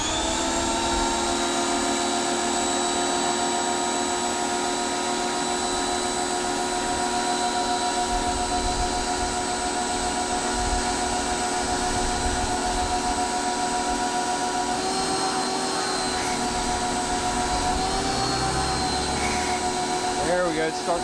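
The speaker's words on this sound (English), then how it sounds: "All right, pressure washer's on, hooked up to AC power. We've got our foamer installed." Ryobi 1800psi electric pressure washer fitted with a foamer, running with a steady high-pitched motor whine and hiss that holds throughout, a voice briefly audible toward the end.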